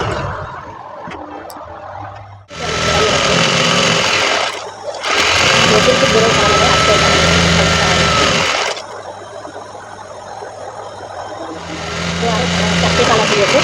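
Electric sewing machine stitching a saree fall border indoors, loud steady whirring runs in three bursts with short pauses between; a person talks during the quieter gaps.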